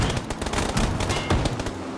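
Rapid bursts of automatic gunfire in PlayerUnknown's Battlegrounds, several overlapping volleys crackling loud and close, with short gaps between bursts.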